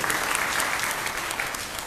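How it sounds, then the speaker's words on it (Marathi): An audience at a religious gathering at a monastery bursts into loud, sustained applause, a dense wash of clapping with no break. "एकदा जोरदार टाळ्या वाजवा"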